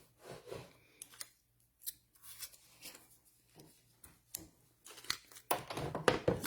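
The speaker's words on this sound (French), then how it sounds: "je vais reprendre mon poinçon pour aller découper mon autre marguerite" A craft punch cutting a paper daisy shape: sparse close clicks and short crunching cuts separated by quiet pauses, busier and louder toward the end.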